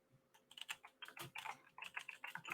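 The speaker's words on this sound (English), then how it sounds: "mama typing" Someone types on a computer keyboard, a quick irregular patter of light clicks and taps close by, steady through the whole moment with no talking.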